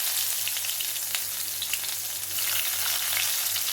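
Mustard seeds crackle and splutter in hot oil for a Pollachi-style tomato kuruma, a steady close sizzle with a faint low hum beneath and no voices.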